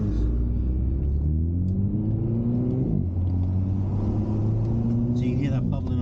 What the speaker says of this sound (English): So you can hear that bubbling on the exhaust now.